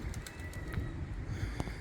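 Pigeons in an East London park drinking near old water urns, giving soft low cooing under steady outdoor ambience and distant traffic rumble.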